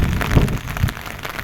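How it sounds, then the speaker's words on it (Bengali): Heavy rain falls over a hotel pool area in strong wind, making a dense, rough wash of noise that surges and eases over a short stretch. "দেখেন, বৃষ্টি প্রচুর বাড়তেছে"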